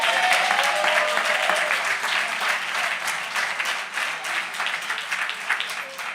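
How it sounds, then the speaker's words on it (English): A rally audience breaks into sustained applause, dense clapping filling the room at a steady level before gradually thinning out. "Give Reverend McHenry a hand"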